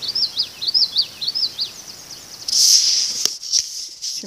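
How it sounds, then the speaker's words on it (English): A common yellowthroat gives a rapid series of sharp, high whistled phrases, repeated several times close by, followed by a brighter burst and a few scattered clicks. "there's a bird in there. He just flew over here somewhere. There he is. He's a yellowthroat."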